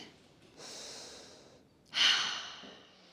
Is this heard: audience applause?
no